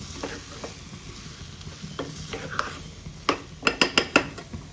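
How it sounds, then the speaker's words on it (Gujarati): Chopped carrot and capsicum sauté in a pan as a spoon stirs them, giving a soft sizzle under repeated clinks and scrapes that grow quicker and louder toward the end. "હવે ફરી આને 2 મિનિટ માટે સાતળી લેશું."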